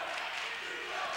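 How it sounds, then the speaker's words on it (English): Basketball crowd in a high school gym chanting for defense, a dense, steady roar of many voices with no clear breaks. "Crowd chanting for defense as North Penn pulls back within 2."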